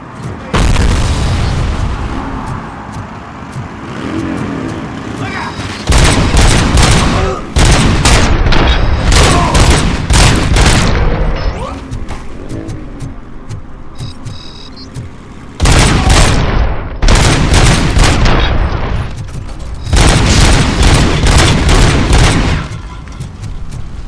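Gunfire from thugs in RoboCop: Rogue City game, loud bursts of repeated shots in several volleys separated by quieter stretches of rumbling background, booming and sharp.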